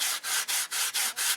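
Sandpaper from a roll rubbed against the inside of a wooden fuselage in quick, even back-and-forth strokes, about six rasping passes with brief gaps between them, close and alone.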